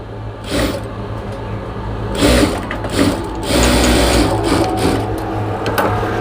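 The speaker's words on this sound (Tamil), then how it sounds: "அந்த சார் ப்ளவுஸ் வந்து விறுவிறுப்பாக தைத்து கொண்டிருக்கிறோம்" A sewing machine stitches a blouse at speed, a loud close mechanical whir that runs continuously with brief surges and slowdowns.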